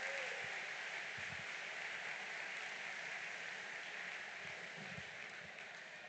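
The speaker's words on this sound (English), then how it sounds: "Let's give them one big round of applause" Big round of applause from a school district staff gathering for milestone employees, a broad wash of clapping that holds steady and fades slightly toward the end, somewhat distant and soft.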